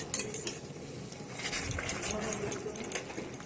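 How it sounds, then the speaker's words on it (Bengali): Metal spatula stirring yogurt into paneer masala in a pan: rapid scraping clinks against the metal pan in an uneven rhythm, close up, with a faint sizzle beneath. "আর এখানে খুন্তিটাকে নাড়াতে হবে"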